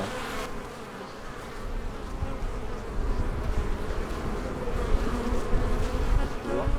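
Honey bees buzz steadily at a hive in the countryside, a close, continuous dense hum with no voices.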